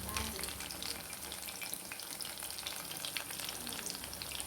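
Onions frying for kuchi piyaju (crisp chopped-onion fritters) give off a steady, dense sizzle that holds close and even throughout, with faint scraping stirs and no talk.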